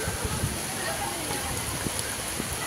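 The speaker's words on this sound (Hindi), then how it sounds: "अभी देखिए बारिश हो रही है सर" Rain patters steadily with a hissing wash at Sarthana Nature Park in Surat, scattered drops ticking close by; faint voices come through underneath.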